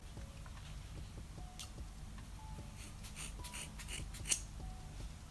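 Scissors snipping through 4C natural hair, a few close, soft crisp cuts spaced irregularly against a quiet room, with no talking.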